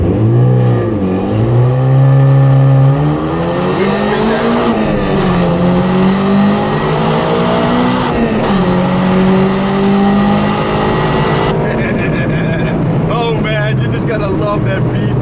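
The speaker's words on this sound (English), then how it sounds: "Love that VTEC." A swapped B18C engine in a 1992 Honda Civic EG hatchback revs hard through the gears, pitch climbing into the VTEC range with sharp rises and drops, loud and close with wind rush.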